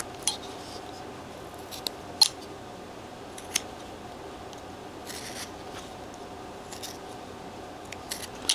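Sharp, scattered knife cuts in wood, each a brief crisp click or snap, from hand carving a detailed wedding scene relief; quiet, close, and sparse over a faint background hum, with no talking.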